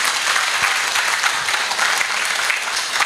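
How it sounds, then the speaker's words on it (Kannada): Steady, fairly loud audience applause at a newspaper's first-anniversary ceremony, a dense crowd of hands clapping continuously throughout the short stretch. "ಈಗ ಒಂದು ಎಲ್ಲರೂ ಚಪ್ಪಾಳೆಯನ್ನು ಕೊಡಿ"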